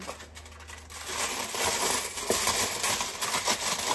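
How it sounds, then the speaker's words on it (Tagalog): Tin foil being torn and pressed over food in a kitchen, with a continuous close crinkling and rustling that grows louder after the first second. "Lagyan natin ng tin foil para hindi masunog."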